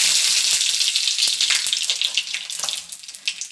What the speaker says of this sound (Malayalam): ഈ കടുക് ഇട്ട് കൊടുക്കാം. രണ്ട് വറ്റൽമുളക്,